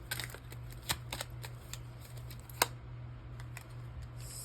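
Lenormand cards are handled close up with soft papery flicks and light taps as they are shuffled and drawn, faint over a steady low electrical hum, with no talking.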